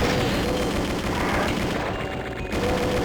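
Chaingun in Doom 2 on a noisy first map, firing a dense, continuous rapid burst at close range with loud, sustained low rattling throughout and no voices.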